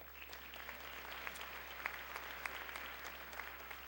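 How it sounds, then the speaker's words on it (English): A concert audience applauds steadily at a high school and middle school winter concert, the clapping soft and distant, spread evenly over a low electrical hum. "Give yourselves a round of applause"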